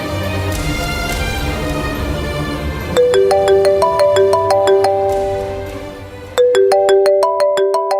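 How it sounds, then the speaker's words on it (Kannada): A phone ringtone plays loudly in a Kannada TV serial scene: a bright, repeating electronic melody starts after a stretch of low background sound, pauses briefly, then starts again, with no one speaking. "ಮಾವ ಸಮರ್ಥ್ ಫೋನು."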